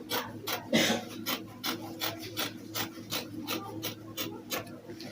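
Scissors trim through layers of shirt fabric at the shoulder slope, cutting front and back pieces together: a series of evenly spaced, rasping snips about twice per second, close and fairly quiet, with no speech.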